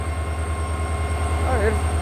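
Diesel locomotive hauling the 05421 Malda–Balurghat passenger train gathers speed out of Old Malda, heard from on board as a loud steady low engine drone with a rising tone late on and a voice briefly over it.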